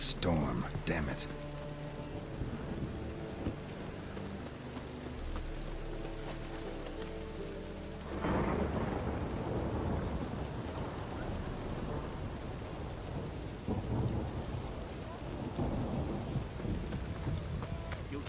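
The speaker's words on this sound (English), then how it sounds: "A storm, damn it." A Witcher 3 thunderstorm breaks loose, a loud thunderclap followed by heavy pouring rain and deep rolling rumbles, after a stretch of soft musical tones over the rain.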